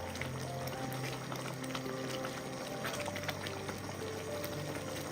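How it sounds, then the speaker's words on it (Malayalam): Milk thickens in a pot as it comes to the boil, giving a faint, steady bubbling and simmering hiss with no break. "അതൊന്ന് നല്ലതുപോലെ ഒന്ന് തിളച്ച് വരട്ടെ"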